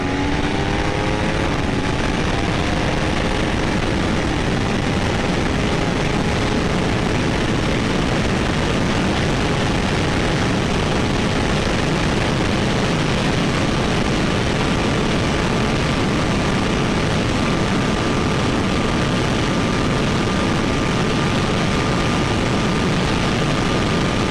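A 2026 Aprilia Tuono V4 with velocity stacks and race gas accelerates hard on a top-speed run. Its loud engine climbs in pitch at first, then holds a steady high drone buried in heavy, constant wind roar.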